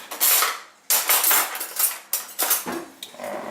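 Kitchen knife cutting a garlic clove on a board to take off the skin, a series of sharp clacking chops and scrapes in quick, uneven bursts, close and fairly loud with no talking.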